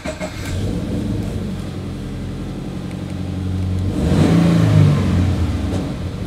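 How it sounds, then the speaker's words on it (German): A 2-litre, 200 hp boxer car engine idles with a low, lumpy throb, then is revved up to a louder swelling roar before settling again, heard close by with no talk over it. "Mal anmachen. Tu es. 2 Liter Boxer. 200 PS."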